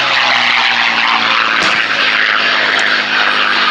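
A Hispano Buchon standing in for a Messerschmitt roars through a low strafing pass at a Duxford air show, its piston engine a loud, steady broadband drone with a sharp transient midway and no talking.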